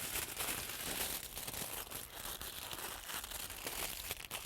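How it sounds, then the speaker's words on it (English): Aluminum foil crumpled and wrapped tightly around a fresh pecan tree graft, a continuous close crinkling and crackling with irregular sharp bursts, no talk. "Some aluminum foil,"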